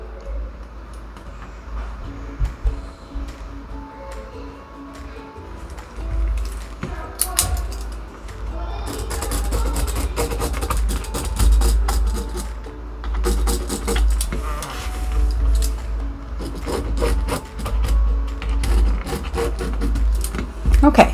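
A sewing machine stitches quilt fabric a quarter inch from two drawn lines, a rapid close mechanical whirring and clatter that runs in bursts with short pauses.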